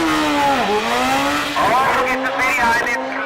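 A BMW S1000 drag motorcycle at a national drag racing event launches down the strip, its engine climbing in loud, rising revs with gear-change dips, heard under an announcer's excited commentary.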